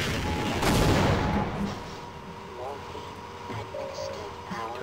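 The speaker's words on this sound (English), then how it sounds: "Shoot me! I've seen your bullets, and they still hurt." Enemy gunfire in the video game Half-Life, a loud burst of shots up front that fades into scattered, fainter game noise and mechanical tones.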